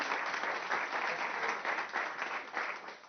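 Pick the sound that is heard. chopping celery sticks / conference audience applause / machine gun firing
conference audience applause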